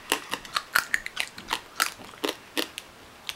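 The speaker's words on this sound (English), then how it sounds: "You guys, hear that crunching? It's crunching raw pasta." Someone crunches raw dry pasta close to the mouth, giving a series of sharp, irregular brittle snaps and bites spread over a few seconds with no talking.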